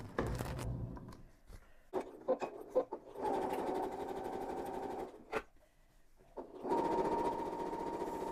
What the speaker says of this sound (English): I'm going to go and top stitch all the way down both sides.